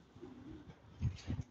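Pigeons cooing softly nearby, a few low, throaty coos clustered near the end over a faint background, with no talking.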